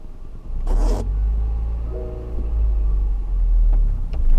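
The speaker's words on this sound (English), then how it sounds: "Release it slower this time, the clutch, but press the gas." Manual car pulling away as the clutch is released and the gas pressed, with a steady low engine rumble that swells slightly as it takes up drive, plus a brief rustling noise near the start.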